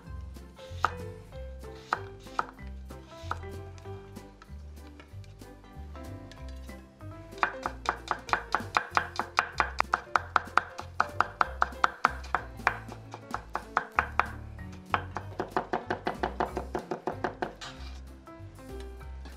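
Knife chopping on a cutting board as garlic is sliced into thin slices and the scraps minced for Korean yukhoe (beef tartare); a few scattered cuts at first, then long runs of fast, close, crisp rhythmic taps with no talk.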